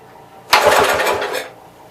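Wisconsin engine on a Master vibrator generator, set to half choke, cranks with a single short, loud mechanical burst lasting about a second before falling quiet.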